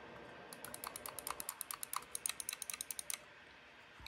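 Rapid runs of light, crisp clicks from the side buttons of a Logitech G305 wireless gaming mouse, close and fairly quiet, in a steady rhythm that builds slightly before stopping.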